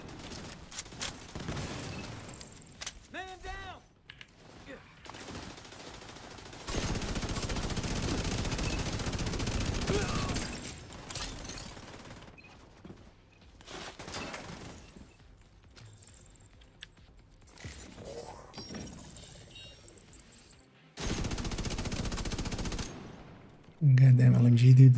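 Light machine gun fire in The Division, long dense bursts of rapid automatic gunfire in several blocks, loud and sustained, alternating with quieter battle noise and scattered clinks between volleys.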